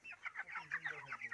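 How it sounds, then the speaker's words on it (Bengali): Several chickens about twenty-five days old cluck in quick, overlapping bursts, faint but close, with no talking. "এই যে আমার মুরগি দেখছেন"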